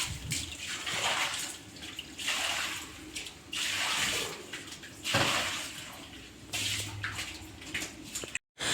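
Water from a bucket is splashed and swished across a floor being washed, in repeated loud gushes and sloshes with short pauses between them, close by and with no talking.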